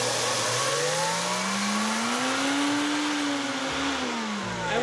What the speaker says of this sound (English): We have a new blender that our sister bought us for Christmas